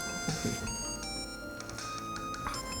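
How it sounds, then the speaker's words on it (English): A telephone rings with a repeating electronic tone, fairly close and steady, with faint voices in the background. "My phone."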